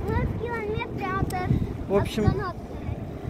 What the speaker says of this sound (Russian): Водные мотоциклы.